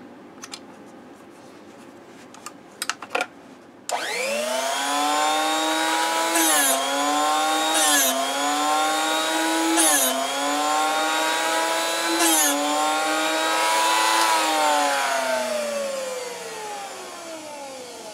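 A Quorn tool and cutter grinder starts up after a few clicks and whines steadily and loudly, its pitch dipping briefly several times as the cut loads it, then winds down near the end.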